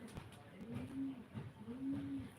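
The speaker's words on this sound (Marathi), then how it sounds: "कबूतर कशा ओरड टाकतात" Pigeons coo softly from a balcony in a few drawn-out, rising-and-falling calls, faint and fairly close, with quiet human voices in the background.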